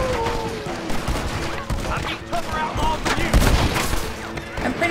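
Dense gunfire in the video game Red Dead Redemption, a steady fusillade of overlapping shots and bursts running the whole time within busy, loud game audio.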